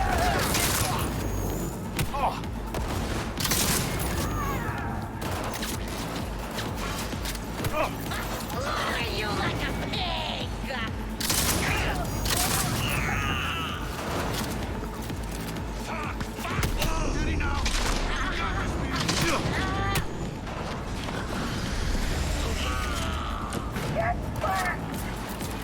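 Heavy gunfire aimed at the player's character in the video game Cyberpunk 2077: dense bursts and shots crack repeatedly over a busy, loud combat mix for most of the stretch, with a player talking over it at times.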